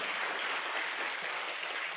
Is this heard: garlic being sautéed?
no